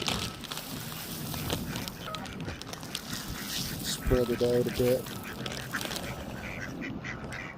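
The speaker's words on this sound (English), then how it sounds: "I better put some over for the ducks so that they don't argue with the geese." Ducks and geese on a river at feeding time, with a short burst of close, loud quacking midway through, set against steady water and bird noise while a person talks nearby.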